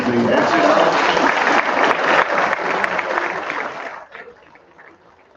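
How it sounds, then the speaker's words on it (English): An audience at a school board meeting claps steadily and fairly loudly for several seconds, then the applause tapers off and fades near the end. "let's give them a round of applause as they exit out"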